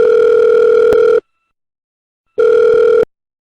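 Telephone dial tone heard as a handset line is opened to place a call: a steady, loud tone that runs just over a second, breaks off into silence, then returns briefly before cutting out.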